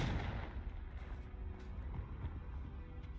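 The Confringo fire spell being cast in the video game Hogwarts Legacy, heard as a loud, rumbling blast that gradually fades into a low roar, with no talk over it.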